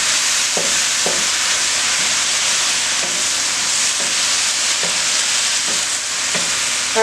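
A low-carb stir fry with ground ginger sizzles steadily in a pan, close and loud, with a constant hiss and soft scraping taps every second or so as it is stirred.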